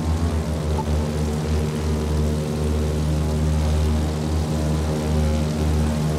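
Propeller airplane engine in the racing game The Crew 2, throttle around 62 percent: a steady, loud, droning hum with a low pulsing throb, continuous and close, with no speech.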